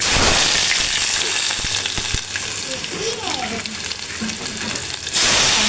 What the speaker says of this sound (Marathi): हिंग टाकते आणि लसूण टाकते